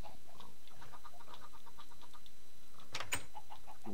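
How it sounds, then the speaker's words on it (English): Chickens cluck softly across a Minecraft ranch of free-range birds, with a few faint clucks and a brief louder squawk near the end over low background noise. "we like these free range chickens out here"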